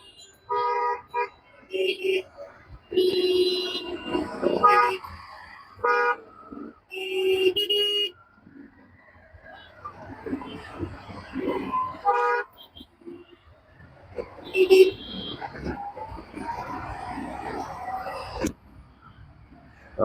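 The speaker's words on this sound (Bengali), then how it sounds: "জ্যাম ছেড়ে দিচ্ছে, 1 মিনিটও হয়নি।" Road traffic as a jam clears, with several short car horn toots spread through the scene and a faint rumble of moving vehicles. A voice talks in between the honks.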